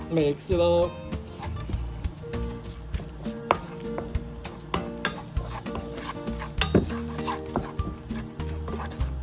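Braised pork belly with preserved vegetables is stirred and sizzling in a hot pan, with steady frying crackle, scraping stirs and tonal sounds running underneath throughout.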